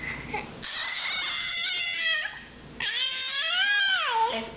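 A cat gives two long, drawn-out meows with a crying, wavering pitch, close and fairly loud, in a quiet room with no talk over it.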